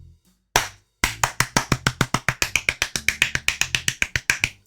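One person claps steadily and fast, close up, a crisp run of about two dozen even claps after a brief pause.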